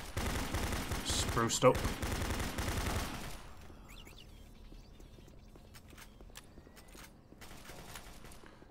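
Rapid turret gunfire from the Doom 3 Redux mod, a loud dense burst of shots for about three seconds, then quieter scattered game sounds while someone talks over it.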